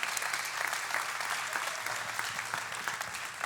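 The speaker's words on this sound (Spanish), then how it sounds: "Démosle un aplauso fuerte a nuestro gran Dios." A church congregation applauds God, a dense, even burst of clapping that fills the room for a few seconds.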